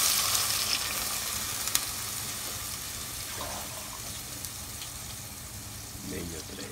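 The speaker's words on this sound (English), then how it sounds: "Now you can add water." Water is poured into a sizzling pan of soup, producing a loud hiss and frying crackle that gradually settles, with faint stirring and no clear talk.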